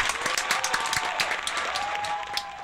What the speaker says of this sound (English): let's have a big round of applause for Arlene Barshinger.